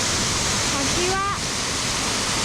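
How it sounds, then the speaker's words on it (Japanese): Ōtsuka Falls on the Ōdana stream in the Southern Alps, a mountain waterfall, roars as a dense, continuous rush of water, loud and close, while a voice briefly speaks over it. "これが前衛滝だ。"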